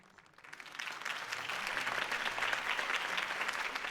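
Applause from a crowd in a video game swells up after a quiet start and holds steady, a dense wash of clapping with no voices.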